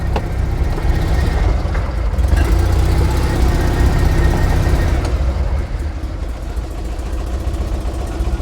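An Invacar engine runs steadily and close by while the little vehicle is eased slowly into position, a constant mid-low drone with slight rises in effort and no talk over it.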